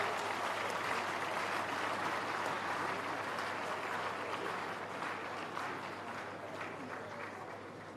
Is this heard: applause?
yes